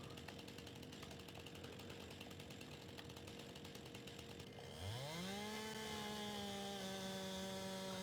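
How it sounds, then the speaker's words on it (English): Chainsaw in Farming Simulator 22 cutting logs: a steady idling buzz that revs sharply at the end into a loud, high, sustained whine, with no talk. "I do like cutting logs, though, with the chainsaw."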